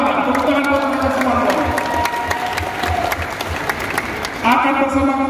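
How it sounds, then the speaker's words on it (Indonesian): Crowd applause at a large political campaign declaration rally in NTT, honoring provincial DPRD faction members, mixed with amplified voices and steady rhythmic beats underneath, loud and continuous throughout. "Tepuk tangan buat mereka semua."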